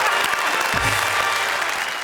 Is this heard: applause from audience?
yes